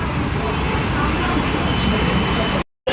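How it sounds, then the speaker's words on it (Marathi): Road traffic in a busy Indian street during a Ganpati festival outing, a steady dense roar of passing vehicles and engine rumble that fills the whole stretch before cutting out abruptly near the end. "हे बघा ट्रॅफिक लागले इथं"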